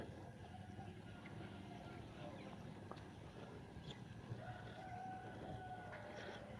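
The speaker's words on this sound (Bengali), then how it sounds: "এটাতেও কক মুরগি রয়েছে।" At a poultry farm after Cyclone Remal, a rooster crows faintly and from a distance. Scattered clucks and a soft voice sit over steady low background noise.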